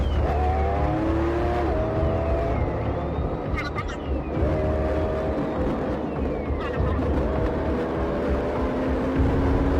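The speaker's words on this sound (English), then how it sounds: "the driver sped away, turning a speeding violation into a high-speed chase that quickly exceeded 100 miles per hour" Car speeding away from police in a high-speed chase topping 100 miles per hour, the engine roaring and revving through gear changes with rising and falling pitch, loud and close, under a narrator's voice.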